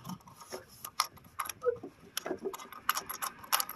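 Tool ratcheting while tightening a roof rack cross bar on a 2010 Honda Pilot, giving a close string of quick irregular clicks and ticks with brief pauses.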